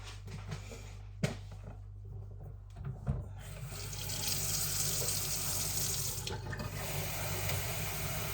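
Tap water runs into a container in a home kitchen, a steady close rushing stream that starts after a few light knocks and clatters and continues to the end.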